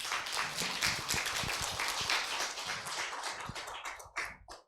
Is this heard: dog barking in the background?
no